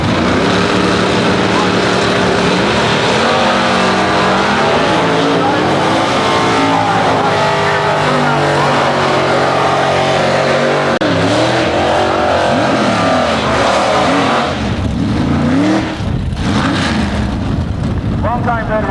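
IHRA drag racing cars, including a Chevy II Super Stock entry, roar loudly down the strip with rising and falling engine whines, while an announcer talks over the racket throughout.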